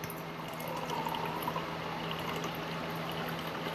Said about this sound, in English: pour out the rest of it